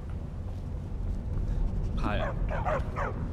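A dog in the Skyrim video game gives a few short, high barks and yips in the second half, over a steady low game ambience.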